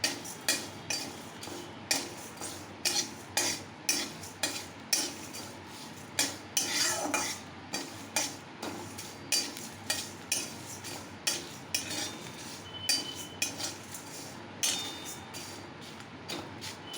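Spices for raw mango pickle being stirred and dry-fried in a pan, a spoon scraping and clinking against the metal in a steady repeated rhythm, close and fairly quiet.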